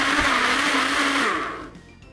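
A blender whirs loudly and steadily blending mango, yogurt and water, its motor hum filling the clip before winding down and fading out near the end.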